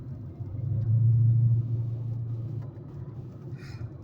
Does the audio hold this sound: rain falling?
no